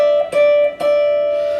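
A minor second played on an Epiphone 339 guitar: two close notes ring together and beat against each other, with two soft re-plucks. The sound is clean, near and sustained.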